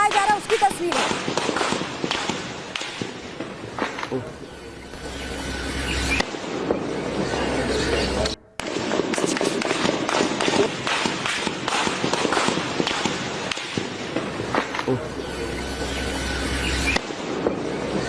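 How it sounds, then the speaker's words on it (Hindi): Rapid gunfire from the Pakistani army in news footage, rendered as dense bursts of sharp cracks and pops with a low rumble, repeated across the clip and mixed with crowd noise and voices. "धड़ाधड़ गोलियां बरसाई जा रही है"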